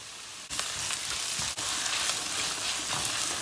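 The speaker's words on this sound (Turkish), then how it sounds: "Soğanımızı kavurma işlemine başladık." Chopped onions and a spoonful of tomato paste sizzle steadily in a pan for a cauliflower dish, a constant close frying hiss broken by two sharp stirring knocks.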